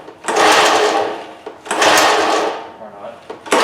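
A John Deere 14SB lawn mower engine cranks without catching, giving loud, rough churning bursts over a few seconds, cut by short pauses.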